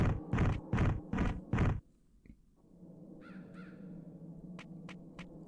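Five loud harsh caws from a crow in the video game Digimon World come in quick succession, followed by quieter game ambience with faint chirps and clicks.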